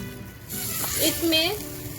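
Mutton and tinda frying in a pan with yogurt mixed with cumin and dried coriander, giving a loud, steady sizzle close up, with a voice briefly heard over it.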